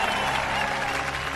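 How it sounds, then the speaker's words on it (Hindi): Dense crowd applause in a Hindi-dubbed South Indian action film scene after a speech praising farmers, a loud continuous wash of many clapping hands with faint crowd noise mixed in. "ताली बजाओ, ताली!"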